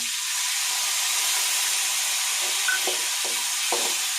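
Lemon juice poured into a hot turmeric tempering for lemon rice, giving a steady loud sizzle and hiss with a few brief sharper spits toward the end; no voices.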